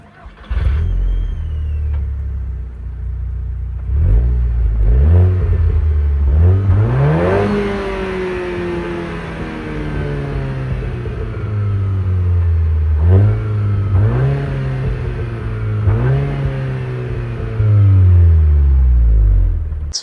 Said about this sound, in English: you can start it up and take a listen to how it sounds